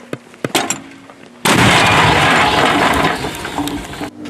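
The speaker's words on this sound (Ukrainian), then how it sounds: "Постріл! Постріл!" A few mechanical clicks, then a sudden loud blast from a Soviet D-44 field gun whose roar and rumble fill the next few seconds.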